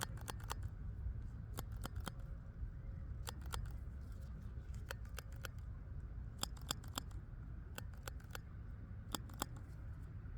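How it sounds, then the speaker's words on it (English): A hole puncher clicks and snaps through paper close by outdoors, giving sharp, crisp clacks in irregular clusters over a steady low background rumble. "It is definitely a hole puncher"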